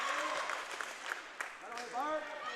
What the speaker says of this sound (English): Hear the crowd yelling